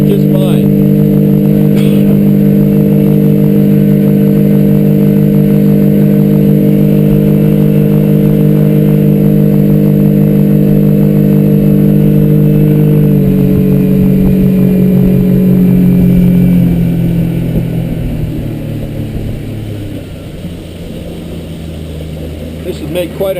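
A 50 horsepower outboard engine on a 2003 Alumaweld Stryker 15-foot aluminium boat runs with a loud, steady drone, then drops in pitch and eases off toward the end.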